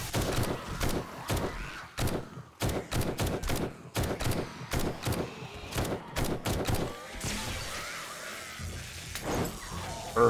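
A tier 6 TAC rifle fires high power ammo in the 7 Days to Die video game, a rapid string of sharp, loud, close shots in uneven bursts, then a rougher clattering tail with no talk.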